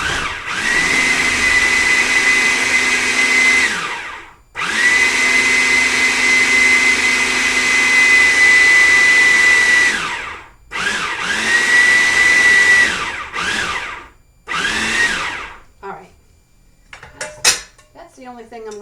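A food processor chopping walnuts roars in several bursts of pulsing, each a loud steady whir that cuts off abruptly, with short pauses and rattling between.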